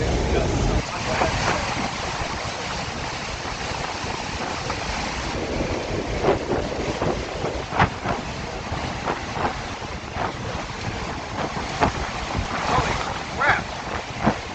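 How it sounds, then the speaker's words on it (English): Hurricane-force wind gusts roar continuously over the microphone, a dense broadband rush with repeated sharper bursts throughout, loud and close, with faint voices underneath. "All of our ears were hurting because of the gusts."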